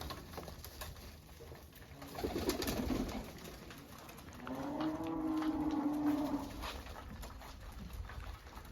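Two low, throaty pigeon coos, each lasting about a second, over a quiet background hum.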